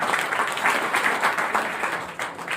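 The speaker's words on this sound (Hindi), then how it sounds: "तालियां होनी चाहिए सबके लिए।" Audience applause in a classroom or lecture hall, dense rapid clapping from many hands held steady for a couple of seconds before briefly dipping and resuming, close and fairly loud.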